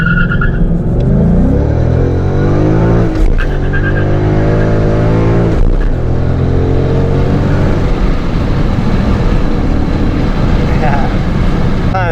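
A Gen 2 Coyote Mustang V8 accelerates hard through the gears, loud and close, its engine note sweeping up and dropping sharply at each of two shifts before climbing again, with a voice talking over the roar.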